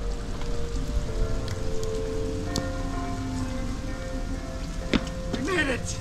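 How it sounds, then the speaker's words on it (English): Hail falls steadily and bounces on the ground on a ride to the snow, a dense continuous patter that stays even throughout, with a faint voice briefly heard. "Just in time for the hail."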